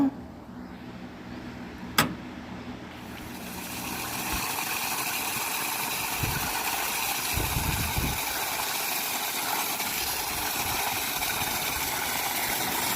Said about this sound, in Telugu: ఇప్పుడు మోటార్ ఆన్ చేసి చూద్దాం నీళ్ళు ఎంత మటుకు వస్తాయో